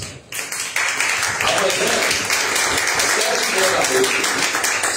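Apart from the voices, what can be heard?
congregation clapping hands in church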